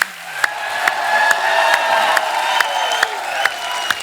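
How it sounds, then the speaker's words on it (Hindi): Studio audience applause and cheering at a comedy show roar continuously, punctuated by sharp, evenly spaced claps. "एक बार जोरदार तालियां हमारे मेहमानों के लिए।"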